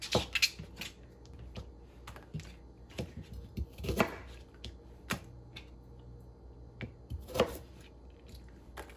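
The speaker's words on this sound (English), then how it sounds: "I also know I'm not cutting an onion like the pros" A knife chops an onion on a cutting board in irregular taps, some quick bursts and pauses, fairly quiet and close, with no voices.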